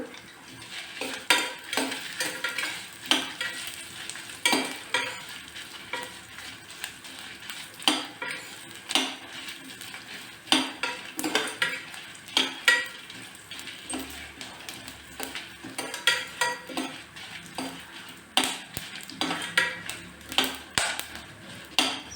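Seven cloves and two cardamom pods dry-roasting in a pan, stirred with repeated scraping and clinking strokes of a spoon against the metal, steady and close throughout with a light sizzle underneath.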